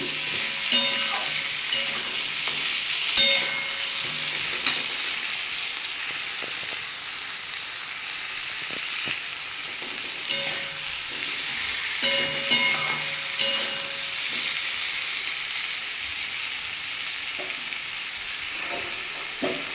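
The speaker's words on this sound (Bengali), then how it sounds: "এর মধ্যে কাঁচা আমগুলো দিয়ে দেবো, আমি দিয়ে একটু ভেজে নেব।" Raw mangoes fry in oil with a soft continuous sizzle, punctuated by repeated close clinks and scrapes of stirring against the pan.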